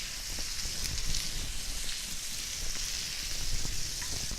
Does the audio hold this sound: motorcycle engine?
no